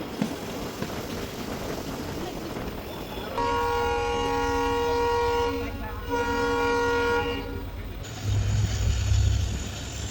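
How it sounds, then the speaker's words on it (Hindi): A train pulls into Madurai East railway station in Tamil Nadu, its horn sounding in long sustained tones over the rumble and rattle of the carriages, loud and close with steady running noise throughout. "ये अपना अराइवल हो रहा है मदुरै ईस्ट रेलवे स्टेशन पर।"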